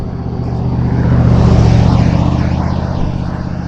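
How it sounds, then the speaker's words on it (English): A big truck passes close by on the road, heard from a motorcycle: a loud, deep engine drone with rumbling harmonics that swells and then eases, over constant wind rush. "Got a big boy truck behind."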